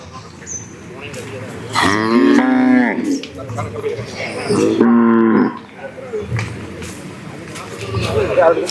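A native-breed cow at a cattle fair in Palayakottai lets out two long, loud moos a few seconds apart, with people talking quietly in the background between them.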